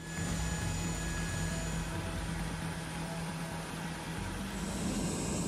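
Four-engine Lockheed C-5 military transport aircraft, C-5M Super Galaxy, with a steady loud engine roar and whine holding at constant level throughout, alone with no talk.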